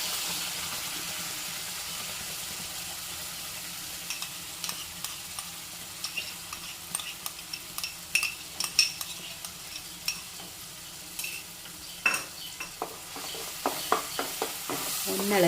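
Mango paste being stirred in a pan over a medium flame for a sweet mango dessert: a soft, steady sizzle with spoon clicks and scrapes that grow more frequent and sharper partway through.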